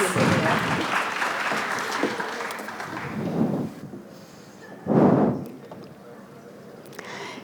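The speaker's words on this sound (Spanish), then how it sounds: "Un aplauso para Daniela" A conference audience at TicoBlockchain 2026 applauds steadily, the clapping thinning out toward the end with a few scattered claps and a brief louder burst.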